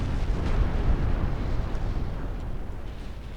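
Naval guns in Ultimate Admiral Dreadnoughts thunder as a destroyer lands heavy shell hits, a rolling, rumbling barrage of deep booms that carries on steadily with no talk.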